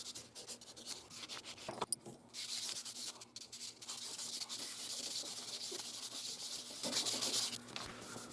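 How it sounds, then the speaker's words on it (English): Fine 400-grit sandpaper rubs along the grain of a walnut knife handle in a continuous soft, raspy scratching, close and fairly quiet, with a brief pause near the start and the strokes swelling slightly toward the end. "now we'll do a round with the 400. With the 400 grit, we want to go with the grain."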